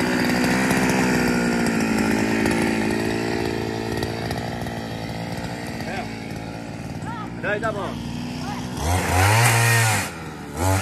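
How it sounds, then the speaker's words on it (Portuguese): A Touro motorized pole saw cuts branches, its two-stroke engine buzzing loudly and continuously with revving swells near the end, while someone speaks briefly over it. "É a roçadeira da Touro com a motopoda também da Touro."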